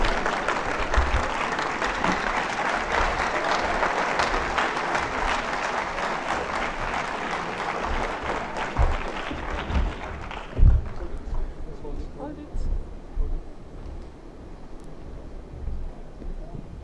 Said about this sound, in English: Round of applause for the overall winners, or the winners, first prize winners from the social and behavioral